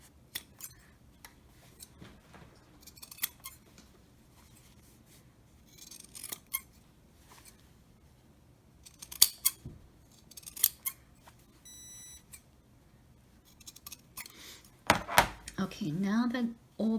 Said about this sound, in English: now that all those 4 areas are trimmed